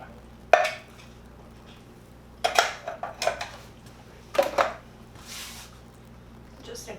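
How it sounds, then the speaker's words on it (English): Coconut milk being stirred into Thai green curry in a pot, with a sharp utensil knock on the pot rim followed by clusters of scraping, clinking spoon strokes against metal, near and fairly clear. "Just incorporate that in with the curry"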